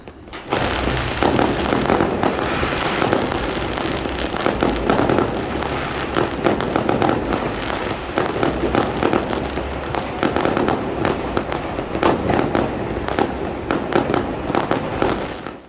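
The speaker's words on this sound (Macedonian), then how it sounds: "новогодишната ноќ имаше употреба на многу пиротехника" New Year's Eve fireworks and pyrotechnics explode without pause, a dense, loud barrage of cracks, bangs and crackling bursts that overlap for the whole stretch.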